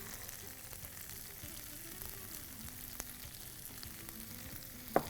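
Mushrooms sauté in a pan with salt and chili powder, giving a steady even sizzle throughout with a faint clink near the end; no talking.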